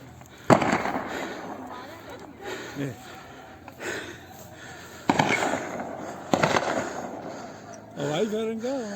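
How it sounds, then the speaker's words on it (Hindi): Aerial gunfire during a land dispute between two groups in Galiat: four or five sharp, loud shots ring out at irregular intervals, spread across several seconds, with voices and crowd noise in between. "हवाई फायरिंग का अच्छा एक दो पत्थर ही मार रहे हवाई फायरिंग की"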